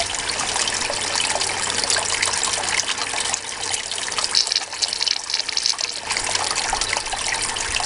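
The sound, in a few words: snuffer bottle sucking up wet gold concentrates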